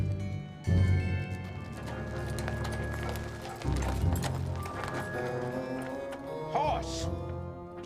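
Horse hooves clip-clop in a steady rhythm at moderate distance, partly under talk and background music.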